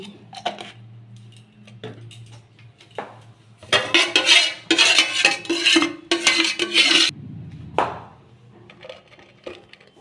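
Ghee goes into a metal saucepan while making chicken biryani, with clinking of a metal spoon and pan, a burst of louder scraping and clattering in the middle, then scattered quieter taps.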